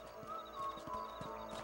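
Horse hooves in the video game Red Dead Redemption, a steady clip-clop of a few hoofbeats at a walking pace, faint under a constant tonal game soundscape, with no talking.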